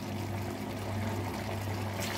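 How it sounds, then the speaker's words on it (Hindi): A cup of water is poured into mutton curry cooking in a pot, a short, steady splashing pour close up over a low bubbling hum. "1 कप पानी डाल देंगे"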